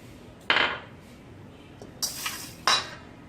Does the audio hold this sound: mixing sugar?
yes